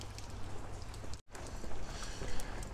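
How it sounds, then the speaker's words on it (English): Steady rain falls on a wet night in Blackpool, outside a low-budget guest house, a dense continuous patter heard up close with a brief break in the middle and no talking. "It's a very wet, miserable night in Blackpool tonight. It's raining."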